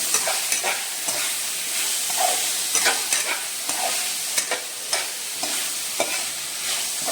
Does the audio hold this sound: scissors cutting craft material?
no